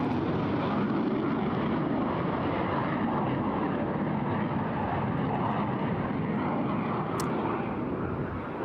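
Eurofighter Typhoon jet in a flying display at Eastbourne Airshow, a continuous loud broadband engine roar that holds steady throughout with no voices.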